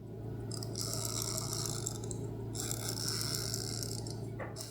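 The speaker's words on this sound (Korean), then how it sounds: "와인딩 소리를 잠시 들려드릴게요." Winding the crown of a GEYA G78171 skeleton mechanical watch produces a rapid ratcheting buzz that comes in two close bursts, with a faint click near the end.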